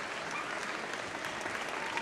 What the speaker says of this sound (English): the PV faithful rise and applaud